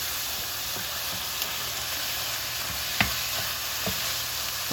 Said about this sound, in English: so I'm going to go ahead and add my ground turkey